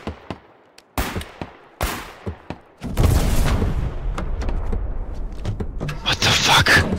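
Gunfire in the video game Foxhole during a tank ambush: sharp, separate shots snap out over near silence, then a dense, heavy barrage of rapid fire and booms takes over with faint voices mixed in.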